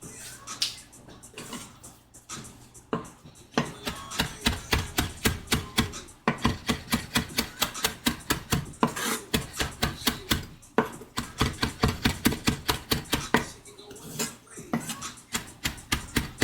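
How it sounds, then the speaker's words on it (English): A kitchen knife chops fresh parsley on a cutting board, fine enough for a garnish. Rapid, close, crisp taps come in fast even bursts separated by short pauses. "let's get a little bit of fresh parsley chopped, just for a little finisher."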